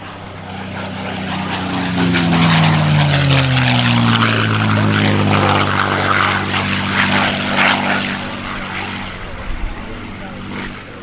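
A P-51D Mustang propeller plane flies past at an airshow, its loud engine drone swelling and sliding down in pitch as it passes, with a commentator talking over it.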